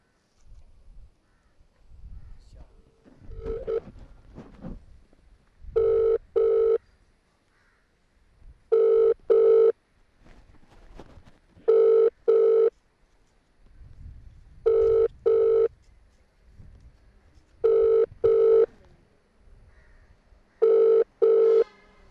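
An unanswered outgoing phone call: a ringback tone sounds in clear double pulses roughly every three seconds, six times over, with quiet background noise between the rings.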